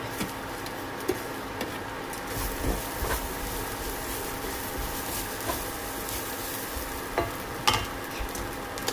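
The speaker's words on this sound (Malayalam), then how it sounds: "ഇതിലേക്ക് പച്ചമുളക് അരിഞ്ഞ് വെച്ചിരിക്കുന്നത് ചേർക്കാം." Chopped green chillies going into hot oil in a pan for an egg and onion thoran, stirred with a steady background sizzle and a few scattered scraping clicks of the spatula.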